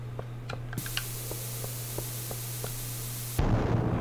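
A bomb going off in Stardew Valley, a sudden loud burst of noisy crackle that cuts in after a stretch of quiet game tones and soft plinks and carries to the end, with no talking.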